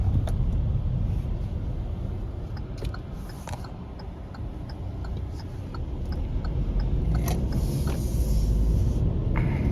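A Kia Stonic GT 1.0 hybrid from 2022 creeps away from rest with a low, steady cabin rumble that swells slightly toward the end, with faint ticks and clicks scattered over it.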